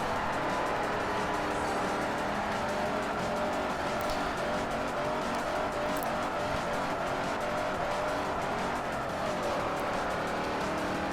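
A Chevelle-style muscle car in Forza Motorsport 4 at Fujimi Kaido roars continuously with steady engine noise and tire squeal as it slides and skids, loud and close throughout with no talking.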